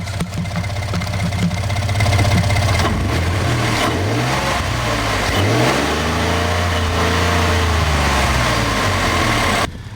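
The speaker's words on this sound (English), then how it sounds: "here I'll give you engine sound too" Ford F150 pickup engine running close by, revving up and dropping back several times in rising and falling sweeps, loud and alone with no talking, before cutting off near the end.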